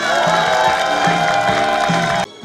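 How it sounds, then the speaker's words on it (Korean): A festival crowd at a harmony celebration in Icheon claps and cheers to welcome a visiting group, loud and continuous with shouts over the clapping, stopping abruptly near the end. "박수로 환영해 주시기 바라겠습니다"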